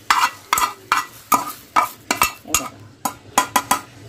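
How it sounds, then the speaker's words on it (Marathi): Roasted okra scraped from a pan onto a large plate, with a run of about a dozen sharp utensil scrapes and clinks in an irregular rhythm, close and fairly loud with no talking. "यांना या भेंडीला आपण एका मोठ्या प्लेटमध्ये काढून घेऊया"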